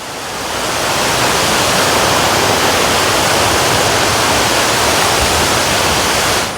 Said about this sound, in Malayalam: നമ്മളങ്ങനെ തൊമ്മൻകുത്ത് വെള്ളച്ചാട്ടത്തിൽ എത്തിച്ചേർന്നിരിക്കുകയാണ്